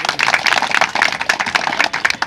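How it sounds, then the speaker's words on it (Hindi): Teachers at a strike sit-in protest in Bijapur, Chhattisgarh, clapping together to welcome a guest, a close, steady, dense patter of many hands that runs the whole short stretch. "मैं चाहूंगा कि हमारे शिक्षक साथी उनका जोरदार तालियों से स्वागत करें"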